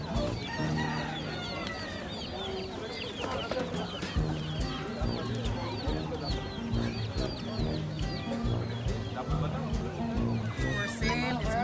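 Chickens clucking and a rooster among many fowl at a busy animal market in Sharjah, steady overlapping calls close by with people talking throughout.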